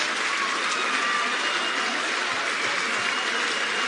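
Sustained applause from a large snooker crowd celebrating a century break that ends a match, a dense steady roar of clapping that fills the whole stretch with no voices on top.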